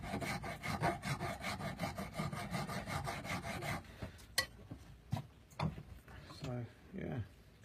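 A file rasps back and forth on a soaked antler knife handle in quick, rhythmic strokes, close by, then turns to scattered scrapes and knocks while someone speaks.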